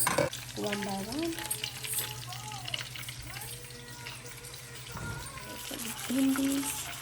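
Okra (bhindi) frying in ghee, a steady close sizzle with occasional stirring, broken by a voice talking over it near the start and end.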